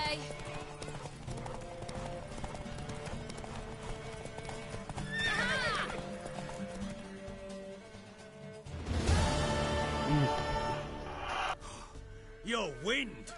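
A horse gallops with rapid clip-clop hoofbeats and gives several neighs and snorts in The Witcher 3, over game music, with a voice speaking partway through and a loud whinny near the end.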